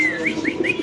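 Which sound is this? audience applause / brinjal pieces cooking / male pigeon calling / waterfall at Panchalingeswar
male pigeon calling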